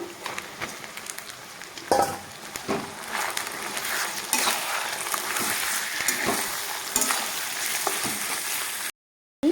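Mutton frying with onions in a pan: a continuous sizzle broken by scrapes and clinks of a spoon stirring against the metal, close and steady.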